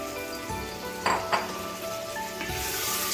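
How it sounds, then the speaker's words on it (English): Chopped tomatoes fry with golden onions on high flame for Konkani mutton rassa, a continuous close sizzle with a couple of sharper bursts of spatter and stirring scrapes. "So fry the tomatoes on high flame until the tomatoes are melted properly."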